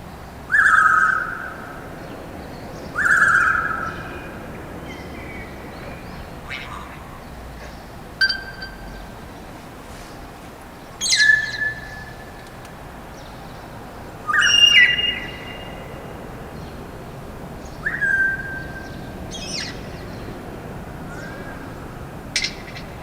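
A grey parrot with a red tail, heard outdoors on Tenerife, gives a scattered series of sharp whistled calls and short clicks, about eight distinct bursts separated by pauses, over a faint steady background.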